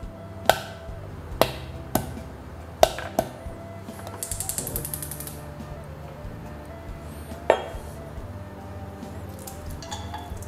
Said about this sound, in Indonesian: Kacang kita masukkan saja. Ini kita geprek lembut.